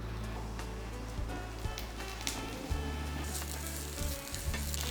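Pieces of tender bottle gourd fry in hot oil for a tomato and coriander chutney, giving a steady, close sizzle with a few soft stirring knocks and no voices.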